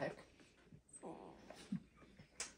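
A begging dog whimpers and whines in short soft bursts, with faint breathy sounds and a brief higher yip, close by in a quiet room during an eating contest.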